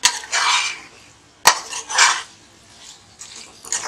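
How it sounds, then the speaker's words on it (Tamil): Tomatoes and masala powder being stirred in a pot for mutton biryani, with close bursts of metal spoon scraping against the pot and a sharp clank partway through, alone without talk. "இதெல்லாம் நல்லா கலக்கிடலாம்."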